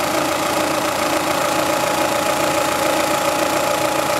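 A 2006 Audi A3 Sportback engine idles steadily after a timing belt replacement, warming up, with a constant low rumble and faint knocking vibration, close by and unchanging throughout.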